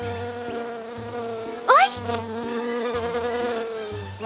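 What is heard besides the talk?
bee buzzing, animation sound effect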